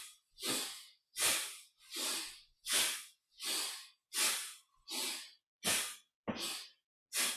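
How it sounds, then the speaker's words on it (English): Slow, deliberate qigong breathing in and out through the nose, about ten airy breath strokes in a steady even rhythm, close and clear against silence, with no talking. "I'm breathing through my nose because that's the way I was first taught"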